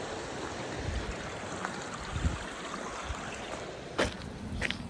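A river flows steadily beside Fern Spring in Yosemite, its broad rushing wash faint and continuous, with a couple of brief louder splashes or knocks near the end.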